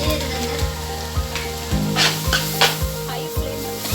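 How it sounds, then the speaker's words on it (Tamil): Chicken noodles stir-fried on a high flame, a loud steady sizzle broken by repeated scraping and clanking stirring strokes against the pan and a low constant burner hum, with no talking. "ஹை ஃப்ளேம் நல்லா கிண்டிக்கோங்க."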